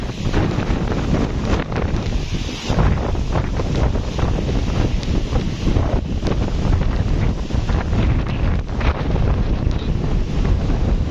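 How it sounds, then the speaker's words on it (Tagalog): Loud, strong wind from a typhoon roars and buffets the microphone continuously at the seashore, with a broad rushing noise like surf underneath and no voices. "Kita ang lakas ng hangin."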